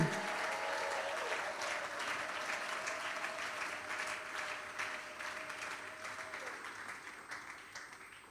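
A church congregation applauds together, sustained clapping that fills the hall and slowly fades, with a faint voice and a held tone underneath.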